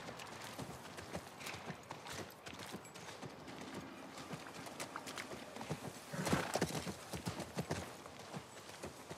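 Horse hooves clip-clopping in The Last of Us Part 1, a steady run of quick, crisp hoof strikes at moderate distance, fairly faint, with occasional snorting and light ambient noise.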